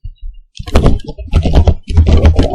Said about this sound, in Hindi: तो चलिए अब कुछ तरीके से टाइपिंग करते हैं